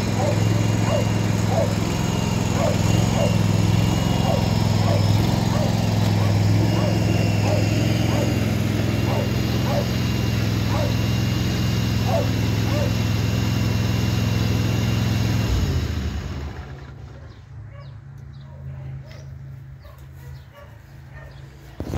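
A John Deere 345 riding lawn mower engine runs with a steady, loud drone, then shuts off, leaving a quieter background with faint birds.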